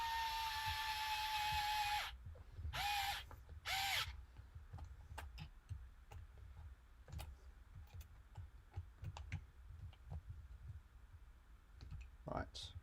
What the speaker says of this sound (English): So I set my electric screwdriver to the minimum torque and don't hold it very tight so it sort of spins out my hand.